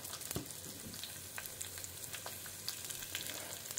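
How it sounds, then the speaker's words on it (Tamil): Mustard seeds and chili frying in hot oil for a Tamil home-style lunch: a steady close sizzle peppered with sharp pops and crackles throughout, with no talking. "கடுகு பொரிய ஆரம்பிச்சுடுத்து நம்ம மிளகாய் ஆட் பண்ணிக்கலாம்."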